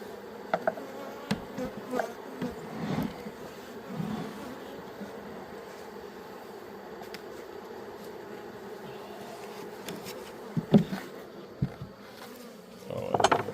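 Honeybees drone in a steady, low buzzing hum during a hive inspection as bees are moved from nucs into 8-frame boxes, with occasional nearby taps and handling noises and no talking.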